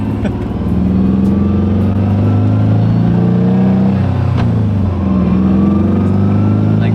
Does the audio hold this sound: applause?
no